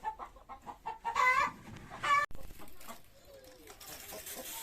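Chickens cluck in short, irregular bursts at close range inside a coop, with faint background noise and the odd louder squawk.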